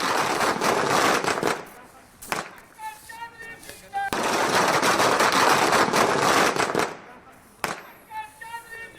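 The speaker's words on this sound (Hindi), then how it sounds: "पटाखे जलाए जा रहे हैं।" Firecrackers go off at a celebration outside a home, a dense, loud crackling barrage lasting about two seconds, then a longer rattling burst of rapid pops with crowd noise in the gaps between volleys.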